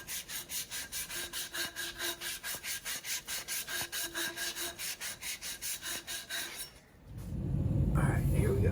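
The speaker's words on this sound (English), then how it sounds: "We have an angle grinder with 120 grit flap disc." An angle grinder fitted with a 120 grit flap disc cleans up an exhaust pipe for a Borla muffler install, a rhythmic rasping sweep repeated about twice a second, close and steady, then giving way to a louder low rumble.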